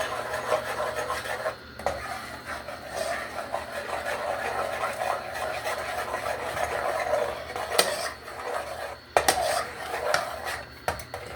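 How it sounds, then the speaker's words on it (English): A spoon scrapes and rubs continuously around a pot of chicken roll-up sauce, a steady close rasping with brief louder clanks against the metal. "And you have to constantly stir it because it will thicken."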